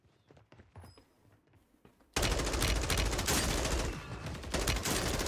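Gunfire in Call of Duty Warzone: quiet footsteps and light clicks, then a sudden loud burst of rapid automatic shots and overlapping gunfire that continues densely to the end.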